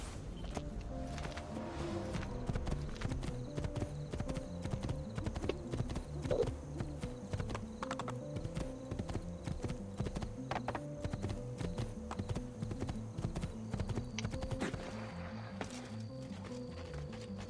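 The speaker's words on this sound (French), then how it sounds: "Le cheval, c'est génial." Horse hooves clip-clop steadily in the video game Assassin's Creed II, a rhythmic trot against light ambient game sounds, with a brief faint whinny partway through.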